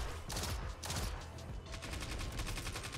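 Shotgun blasts in the video game Destiny 2: several sharp, rapid shots in quick succession, with bursts of gunfire crowding the short clip and no speech.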